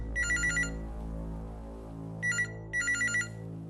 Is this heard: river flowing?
no